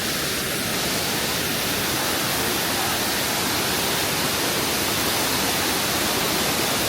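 A wide waterfall at Jiuzhaigou, China, pours down a cliff beside a boardwalk with a dense, unbroken roar of falling water. It stays steady and full throughout, with no voices.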